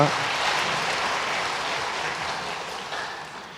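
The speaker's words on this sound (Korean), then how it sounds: "잠깐 자리에서 일어나시면 큰 박수로 환영하겠습니다" A church congregation applauds to welcome a newcomer during a Sunday service, a steady mid-level clapping wash lasting a few seconds, somewhat distant and diffuse, with possible faint speech mixed in.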